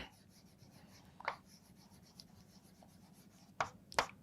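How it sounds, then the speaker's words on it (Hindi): Marker or chalk strokes on a board during a Class 5 biology lesson: a few quick scratchy strokes, one near the start and a cluster of sharper ones at the end, close and fairly quiet over a faint room hum, with no talking. "यहाँ हम लिख सकते हैं"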